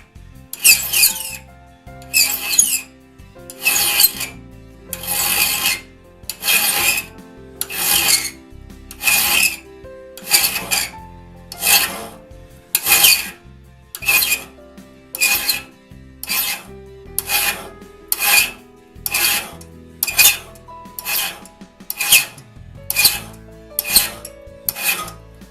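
A hand file rasps rhythmically across the raker teeth of a one-man crosscut saw, with about twenty regular strokes, each a sharp, close scraping burst followed by a short pause, alone without talk.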